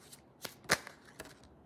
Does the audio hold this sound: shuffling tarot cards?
yes